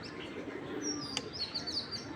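Pigeons kept for breeding give a few short high chirps and a brief call over a low murmur of background noise, fairly faint, with no talking.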